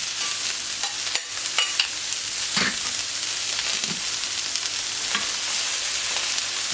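Grilled vegetables, including peppers, frying in a hot pan set to 200 degrees for a Catalan escalivada, with a steady broadband sizzle and a few scattered scrapes and knocks of stirring, close and fairly loud, no talking.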